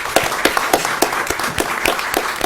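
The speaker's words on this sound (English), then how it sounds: "would you please stand and let us give you a round of applause, ma'am?" Audience at a City of Cocoa council meeting applauds for Mrs. Juanita Johnson, a steady patter of many hands clapping at moderate volume with sharper individual claps standing out.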